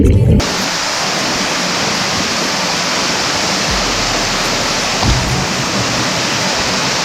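Powerful waterfall at Seven Wells in Langkawi, Malaysia, roaring as a steady, dense wash of falling water close by, loud and continuous throughout.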